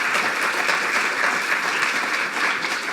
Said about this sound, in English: So I'd like you to just give one round of applause, a final round for all the speakers.